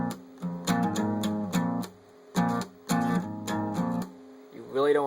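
Acoustic guitar strumming a partial D-shape chord on the lower strings, in short rhythmic bursts separated by brief pauses, with a voice entering at the very end.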